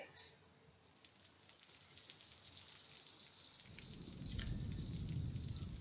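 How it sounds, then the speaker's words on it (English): Rain falls as a faint, steady hiss of drops on a surface, swelling louder toward the end, heard alone in a quiet recording. "It's raining."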